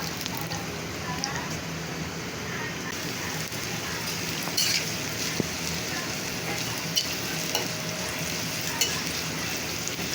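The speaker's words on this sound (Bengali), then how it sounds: "এই করলা ভাজি সয়াবিন তেল দিয়ে করি" Bitter gourd frying in soybean oil, a dense, even crackling sizzle like light rain that holds steady throughout, with a few sharper pops standing out.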